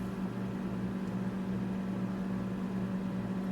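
A very old microwave oven runs with a steady low electrical hum and a constant whirring drone, unchanging and close, with no talk over it.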